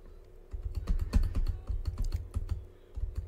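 Keys on a computer keyboard are pressed in quick, uneven bursts, close and fairly quiet, with no voices.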